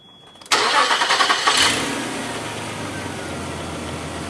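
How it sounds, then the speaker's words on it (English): A car engine cranks and catches with a sudden loud roar, briefly revving before settling into a steady idle. "Start the engine."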